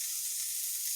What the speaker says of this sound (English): You can see how it's bubbling. That's called bloom.